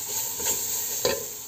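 Soft sizzling and stirring in a pot as onions are sautéed with turmeric, cinnamon, black pepper and red pepper, a gentle continuous fry with a couple of brief scraping strokes.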